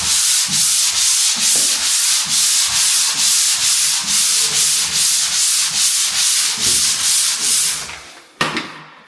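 Rhythmic back-and-forth strokes sanding drywall joint compound over a flat tape joint rasp loudly and steadily, then stop with a brief knock.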